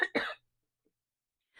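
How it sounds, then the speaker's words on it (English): A single close cough, a short throat-clearing burst followed by a sharper cough, then quiet, with the start of a voice at the very end. "I'm going to cough."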